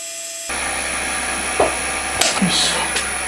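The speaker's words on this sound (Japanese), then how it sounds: "まずはセンタードリルで下穴を開けていきますね。" A lathe starts up with a steady mechanical hum and whine, with a few brief scraping and clunking touches of metalwork under it as a center drill bores a pilot hole.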